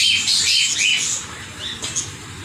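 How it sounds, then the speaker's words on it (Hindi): Green parrots squawking loudly and close by in a yard with pigeons and chickens: harsh, high-pitched calls cluster in the first second, then sparser, fainter squawks follow. "फिर हरे तोते आ गए हैं"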